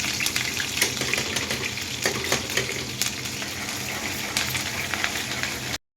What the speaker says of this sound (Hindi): देखो घी थोड़ा गर्म हो गया तब मैं डाल देती हूँ हरी मिर्च।